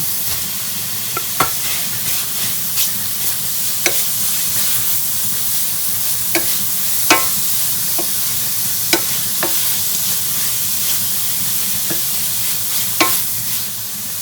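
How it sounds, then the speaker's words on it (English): Bacon and ham fry together in a pan for carbonara, a constant close sizzle broken by scattered sharp pops and spatters. "As the bacon's cooked a little bit, add the ham."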